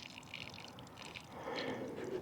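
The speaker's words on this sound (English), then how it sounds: "Pour water in and agitate it with a stick to kind of mix it in the hole." Water from an old watering can is poured into a dug post hole outdoors, a soft, faint splashing trickle that swells slightly toward the end.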